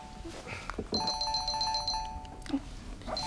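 Mobile phone ringing at a family birthday meal: a bright melodic electronic ringtone of repeated chiming notes plays for about a second, under light room noise and clatter.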